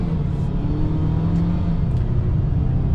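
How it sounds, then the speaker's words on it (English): A Ford Maverick Lobo small truck accelerating in Lobo mode, its engine giving a steady, loud whining drone with constant road rumble from inside the cab, without pauses. "it definitely sounds like you're whining out the engine a lot"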